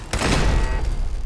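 Automated turret gunfire in Fallout 4's Corvega Assembly Plant: a loud, dense burst of rapid shots with a heavy low rumble, sustained for just over a second with no talking.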